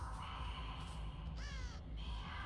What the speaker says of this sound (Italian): volatoli un corvo, vuol dire che c'è qualcuno in questa zona.